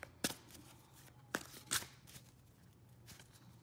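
Tarot cards being shuffled by hand during a psychic celebrity reading, a few sharp riffling bursts separated by quiet pauses, close and soft, with no talking.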